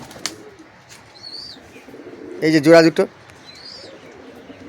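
Native pigeons coo softly, with faint high chirps scattered around, while someone speaks briefly in the middle.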